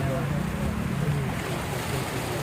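Rain-swollen floodwater pours over a bridge, a steady broadband rushing roar with a low rumble that stays constant and close throughout.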